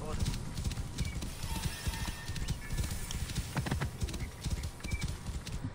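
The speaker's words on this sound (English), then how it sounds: "I just stole his horse." Steady horse hoofbeats clip-clop in a quick rhythm with a brief whinny, mixed with Assassin's Creed Origins game ambience and some talking over it.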